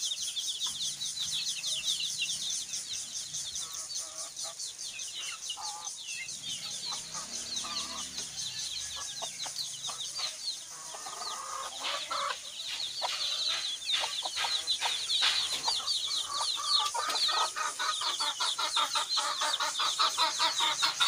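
A free-range hen on a Bangladeshi farm, about to lay an egg, clucks over a steady busy farmyard din for about twenty seconds, close and fairly loud, with no talking.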